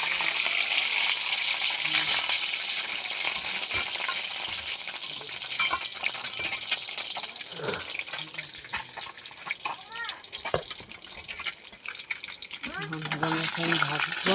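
Peeled boiled eggs frying in hot oil in a pan make a steady close sizzle with occasional spatula scrapes and clinks, and a voice speaks intermittently over it.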